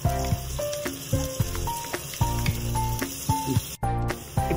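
Ginger garlic paste sizzling in a pan for a country chicken curry with tamarind leaves, a steady close frying hiss with repeated sharp clinks and scrapes of a utensil against the pan.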